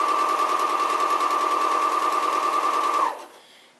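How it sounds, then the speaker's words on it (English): A sewing machine runs at speed while stitching bias tape, giving a loud, close, steady whirring buzz for about three seconds before stopping abruptly. No one speaks. "And I'm just going to start sewing,"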